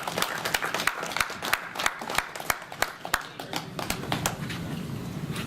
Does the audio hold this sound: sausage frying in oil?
no